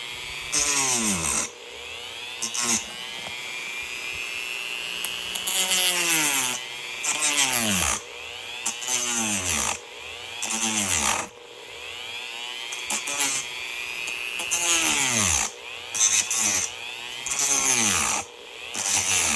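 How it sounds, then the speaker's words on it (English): A Dremel rotary tool at low speed cuts through the neck of a plastic 1/10 scale model figure, a loud whining grind that rises and falls in repeated bursts of a second or two with brief pauses between passes. "It's my handy Dremel."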